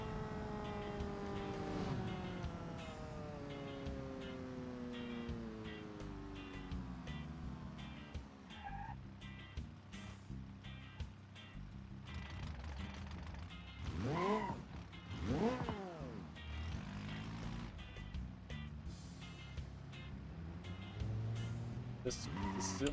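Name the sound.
fast car engine running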